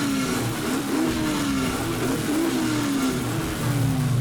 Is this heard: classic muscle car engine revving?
yes